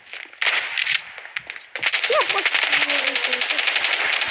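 Fast rapid-fire automatic gunfire from the video game Standoff 2 rattles steadily after a few brief bursts, loud and continuous, with a person speaking briefly over it.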